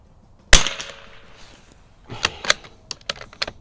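A Remington bolt-action .22 LR rifle, either a 1952 513-T or a 1994 541-T, fires a single sharp, loud crack with a short tail, followed by a few lighter mechanical clicks.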